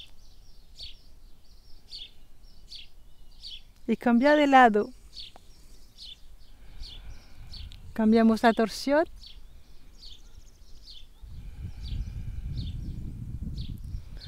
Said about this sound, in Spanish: Quizás puedes oír los pájaros